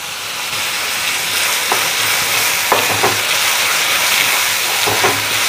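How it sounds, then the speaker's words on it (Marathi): Chopped onion frying in oil in a pan for baby potato bhaji, a loud, steady sizzle throughout with a few soft scrapes of stirring, close up and with no voices. "आणि हा कांदा आपल्याला अतिशय खरपूस असा भाजायचा आहे, अतिशय खरपूस."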